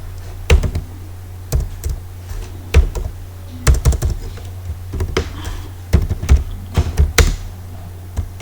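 Someone types code into a computer keyboard, with separate bursts of close, crisp key taps broken by short pauses over a steady low hum.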